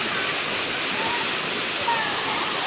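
Hot spring waterfall at Krabi, a steady broad rush of falling water filling the whole stretch evenly, close and continuous, with no talk over it.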